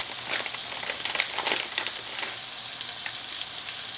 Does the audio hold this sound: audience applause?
no